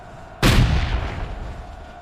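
A single loud cannon blast erupts sharply, then rumbles and decays over the next second and a half.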